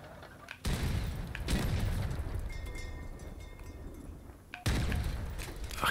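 Heavy weapon fire from Mammoth and Fatman guns in the vehicle combat game Crossout, deep booming blasts and thuds punctuating a continuous rumbling battle din, with a few loud hits standing out.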